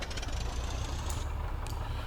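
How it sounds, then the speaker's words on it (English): A simulated Fournier RF-6B 100 light aircraft engine in the X-Plane 11 flight simulator, running in a steady, rough, throbbing drone that holds evenly throughout. "let's go ahead and start the engine"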